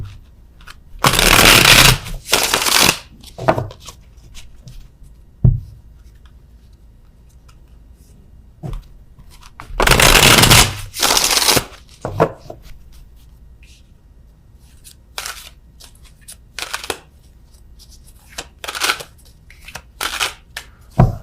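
Tarot cards are shuffled in repeated loud riffling bursts, two long papery flurries with shorter shuffles and taps between them, close up with no talking.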